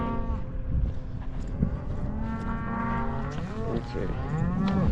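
Cattle in a pen during calving season moo repeatedly, several long low bellows overlapping up close, with shuffling and farmyard noise throughout.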